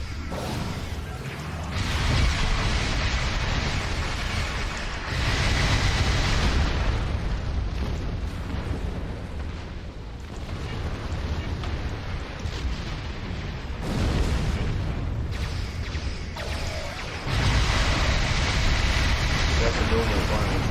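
Artillery shells burst again and again across a space battle in Star Trek Online, heavy booming explosions and whooshes rolling continuously and loudly for the whole stretch, with brief lulls between volleys.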